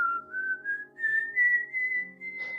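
A person whistles a single sustained, gently rising tone imitating the whistle of the Silbón legend, a clear solo whistle lasting a couple of seconds with a slight wavering pitch.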